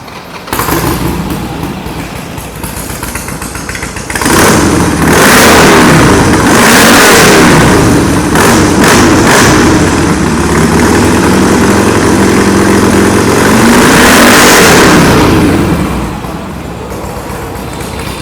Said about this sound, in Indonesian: buat kalian semua yang penasaran gimana sih suaranya motor ini ketika hidup, nih gue hidupin nih